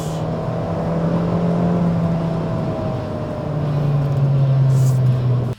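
A Kia Rio's non-turbo 1.6 engine revs up steadily toward 4,000 rpm, its drone holding then climbing again to a higher pitch, loud and close with no talking.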